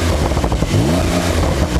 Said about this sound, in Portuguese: Aqui são carros que fazem barulho.